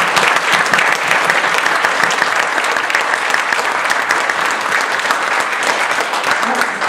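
Sustained, loud audience applause for speech contest contestants at a Toastmasters International Speech Contest, steady dense clapping throughout with no pause.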